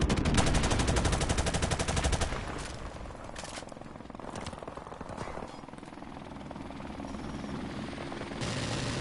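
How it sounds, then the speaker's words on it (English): A friendly support helicopter in Call of Duty: Modern Warfare Remastered thuds with a fast rotor chop, overlaid by bursts of machine-gun fire and a scattered firefight, loud and dense throughout. "Helicopter support standing by. Friendly helicopter on the way."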